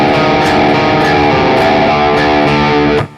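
An electric guitar in drop D tuning plays a distorted Phrygian riff fragment, loud and close, with a chugging low rhythm and regular picked accents, ending abruptly.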